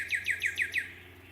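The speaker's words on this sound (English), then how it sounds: "Perched here, high in a tree, is a male brown-headed cowbird" A male brown-headed cowbird calling from high in a tree: five quick, bright, descending chirps in a rapid even series, close and clear against a quiet background.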